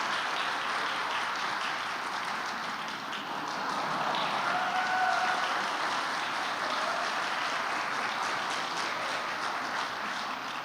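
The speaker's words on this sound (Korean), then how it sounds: "힘찬 박수 부탁드립니다." An audience at a Korean ceremony honoring Professor Kim Chang-ju applauds during a gift and flower presentation, a continuous, fairly soft roar of many hands clapping, even and sustained without speech.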